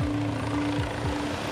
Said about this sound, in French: Après 10 minutes d'attente, l'hélicoptère du SAMU arrive enfin.